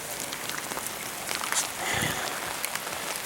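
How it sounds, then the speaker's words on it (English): Steady rain falls outdoors on the second morning of a Pennsylvania metal-detecting dig event, a continuous close hiss with scattered patters and a few brief knocks, with no voices. "Been raining all night."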